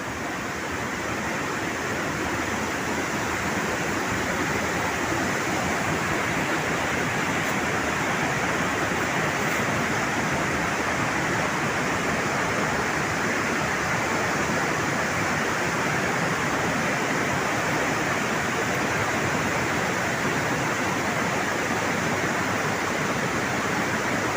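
Water rushing over Wawa Dam in Montalban, Rizal, where the river runs on toward the Marikina River: a loud, steady, close roar of flowing water that never lets up, with no voices.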